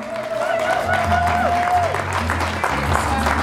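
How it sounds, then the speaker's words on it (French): Steady applause from a crowd, with a voice and a sustained tone rising over the clapping and a low rumble underneath. "nous applaudissons très fort les mamans"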